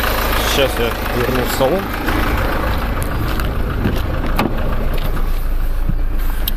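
A Citroen C5 X7 with the DW10CTED4 diesel engine idles steadily with a rough, loud drone and faint irregular extra noises, while someone speaks briefly nearby over the engine.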